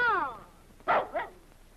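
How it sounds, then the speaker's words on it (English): A dog in a 1939 comedy film gives two sharp, close barks in quick succession, just after a short voiced cry. "Baby, you bad dog!"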